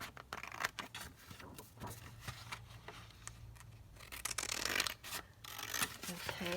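Scissors cutting out a paper picture for a junk journal, with close, repeated snipping and paper rustling scattered through the clip and a soft voice at times.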